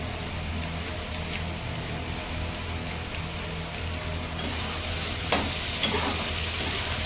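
Flour roasts in a pan with a dense, steady sizzle and crackle heard up close, and two sharp clicks sound near the end.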